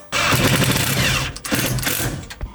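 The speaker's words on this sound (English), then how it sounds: "Time to drill a hole in the firewall to run some wires." A power drill whirs loudly and steadily, bogging briefly as it bites through a car's metal firewall, then revving again in short bursts near the end.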